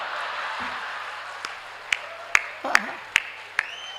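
A few sharp claps ring out over a murmuring audience at a Hindi comedy poetry gathering, scattered and uneven rather than full applause, with voices underneath.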